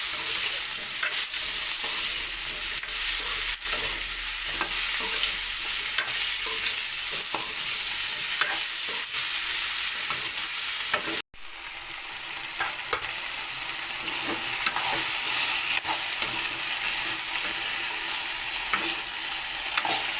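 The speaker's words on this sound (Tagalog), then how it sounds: "Ang ulam ay lady's finger at saka potato fry." Okra and potato frying in a pan, an even, loud sizzle throughout with occasional stirring scrapes and a brief break midway.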